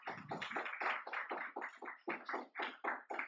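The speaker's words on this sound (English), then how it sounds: "Can we get another round of applause for Aiden for reading that?" An audience applauds a reader at a prose reading event, a dense burst of hand claps held steady for several seconds, with no talking.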